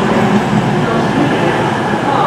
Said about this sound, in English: in comes the 1905 cross-country service to Penzance. It's a class 220